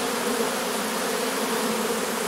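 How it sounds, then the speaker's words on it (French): A large honeybee swarm entering a hive, a dense continuous buzz of many bees at close range, loud and steady throughout, with no voices. "On voit bien les abeilles descendre."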